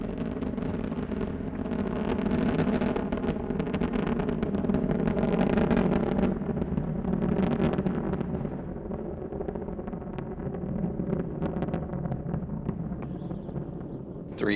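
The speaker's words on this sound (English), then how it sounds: "Three engines now throttling down as Endeavour passes through the area of maximum dynamic pressure on the vehicle in the lower atmosphere" Space Shuttle Endeavour's three main engines at launch on mission STS-134, heard as a deep rumbling roar with crackle and wind buffeting, continuous throughout and easing slightly toward the end.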